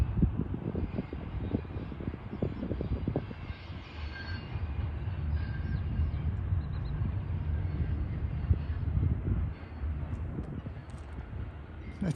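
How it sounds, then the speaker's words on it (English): Union Pacific southbound freight train on the Palmdale Cutoff near Cajon Pass rolling by with a continuous low rumble and rattling wheels, steady and fairly close throughout, with a brief faint squeal. "This is a Union Pacific southbound on the Palmdale Cutoff."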